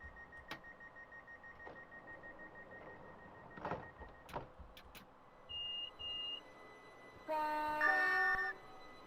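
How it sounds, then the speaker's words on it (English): Train doors opening at West Hampstead station in a train simulator: a few soft clunks and mechanical whirs, then a short two-part warning beep and a louder multi-tone door chime sequence, with quiet hum underneath. "now I'm going to go ahead and open the doors here at West Hempstead"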